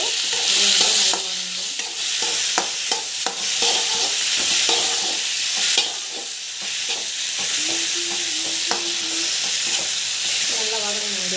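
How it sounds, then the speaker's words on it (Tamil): Tomato and curry leaves sauté in a pan with a steady close sizzle, broken by frequent scraping and clinking strokes of a spoon stirring against the metal throughout, with no talking. "டொமாட்டோ போட்டுட்டு நல்லா வதங்கிட்டோம்."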